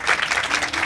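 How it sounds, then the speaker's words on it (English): An audience applauds a professional triathlete at a breakfast event in Kona, a steady dense patter of many hands clapping, close and fairly loud, with no talking. "a round of applause for Carrie Lester"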